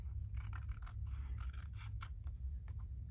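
Scissors trim a small edge off an old folded antique letter during a paper ephemera craft session: a close series of crisp snipping and slicing sounds in quick irregular rhythm, with no talking.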